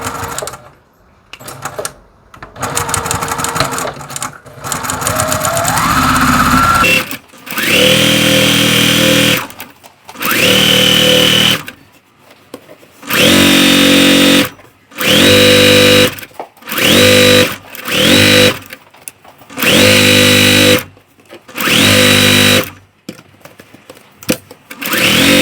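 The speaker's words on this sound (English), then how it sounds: "I'm going to just start stitching" A sewing machine stitches a long row of a sampler quilt in repeated bursts of steady whirring, close and loud, separated by short pauses, with no talk.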